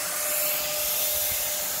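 A Hawkforce electric spray gun runs with a loud, steady, hissing motor whine, continuous and close, with no talk over it.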